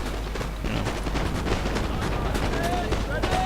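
Massed musket fire from line infantry shooting uphill in Napoleon: Total War, a steady crackle of scattered volleys rolling on and off over a rumbling battlefield, with a voice talking over it.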